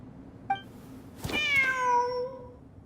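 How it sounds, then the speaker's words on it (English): A cat in the video game Genshin Impact gives a short chirp followed by one drawn-out, clear meow that rises and then falls, heard alone and close. "Wait, there it is! The cat!"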